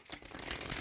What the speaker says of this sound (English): just shuffle the cards so they're top to toe